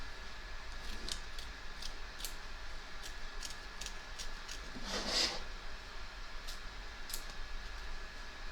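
Scissors snip through excess embroidered fabric and lining around a stitch line on a hoop, a steady series of faint, close crisp cuts at roughly even intervals in a quiet room.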